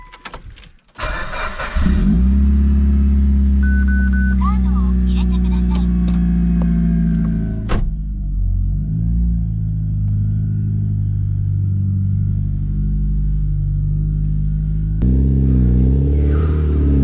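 A Mitsubishi Evo 8 starts up and idles with a steady, loud engine rumble, then drives slowly onto ramps with a brief rev change partway through and another surge near the end.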